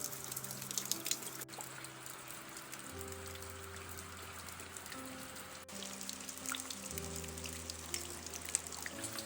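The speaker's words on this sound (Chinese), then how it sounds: "这里就是后屋檐排出来的水了，因为没有给它统一挖沟，所以它就排的比较分散。" Rainwater from a heavy night downpour in a mountain village drips off the back roof eaves, a soft continuous patter of drops striking the ground nearby, steady and unbroken with no voices.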